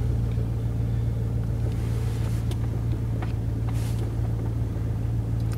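Diesel engine of a John Deere front-mounted sweeper idling at about 900 rpm on a cold day, a steady close low hum with a constant tonal drone and occasional faint clicks.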